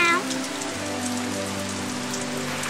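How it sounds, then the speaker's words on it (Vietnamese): Cold rain falls outside in a 3D animated children's cartoon, a steady, dense patter that stays even throughout with no voices. "ngoài kia trời mưa lạnh"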